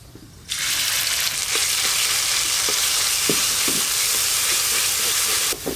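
Five-spice paste hits hot mustard oil in a pan for a fish curry, bursting into a loud, steady sizzle and hiss that holds for several seconds, with occasional light scrapes of stirring.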